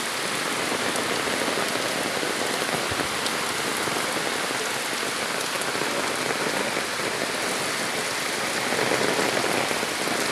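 Heavy, relentless rain pouring down onto surfaces close by, a dense, even roar with no break across the whole stretch.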